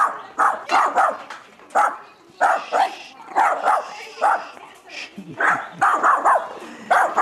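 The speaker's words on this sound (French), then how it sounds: "Un chien aux oreilles roses" A dog with pink-dyed ears barks repeatedly in short, loud bursts, close by, with a few whimpering yips between the barks and no talk over them.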